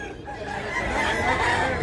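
A roughly one-year-old, medium-sized rooster for sale at a market crows in a sustained, strained call, loud and close against a busy background.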